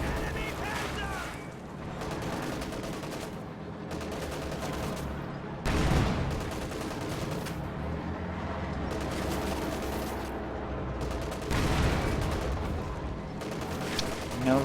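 Sustained battle noise in a WWII strategy game, with a Panzer IV tank firing on infantry amid steady rattling gunfire, heavier booms near 6 and 12 seconds, and a voice talking over the dense mix.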